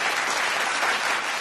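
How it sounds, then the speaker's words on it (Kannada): A studio audience on the Suvarna Superstar television show bursts into dense, continuous applause, loud and even throughout the brief moment with no voices over it. "ಚಪ್ಪಾಳೆ"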